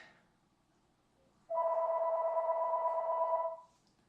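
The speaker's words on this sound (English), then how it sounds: "Phone's ringing." A single electronic phone ring, a steady two-tone warble lasting about two seconds in a quiet room.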